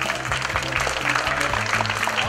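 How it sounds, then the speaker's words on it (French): Crowd applauds a cyclist at the final podium ceremony of the 2012 Essor Breton race: steady, dense clapping close by with no pauses, and no voices standing out above it. "Merci de l'applaudir."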